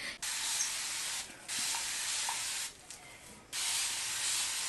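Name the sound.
spraying water from a spray bottle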